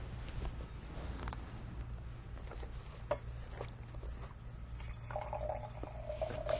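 Wine poured into a glass at Raymond Vineyards gives a quiet, steady liquid trickle and patter that thickens toward the end, heard against a low background hum in a quiet room.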